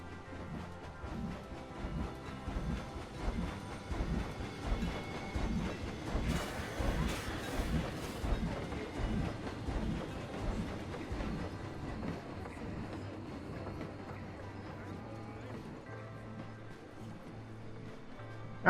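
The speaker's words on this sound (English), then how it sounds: "Here comes the train." A train rolls past in a Planet Coaster theme park, its wheels beating a steady clickety-clack rhythm that builds to a loud, close pass with a brief bright squeal, then fades away alone.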